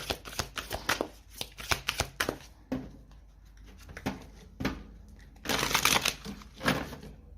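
Tarot cards are shuffled and drawn in a psychic tarot reading, with close, crisp riffling bursts and flicks in irregular clusters, the loudest flurry near the end and no talk.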